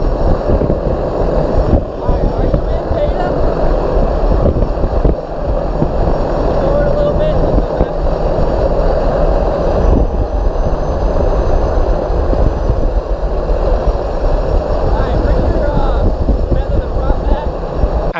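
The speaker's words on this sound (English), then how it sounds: "I put the engine in full beta, and pull it all the way back into full reverse to see how the beta is functioning." Turbine engine of a P-51 aircraft run in full beta reverse whines and roars loudly and continuously, a steady powerful drone with slight surging.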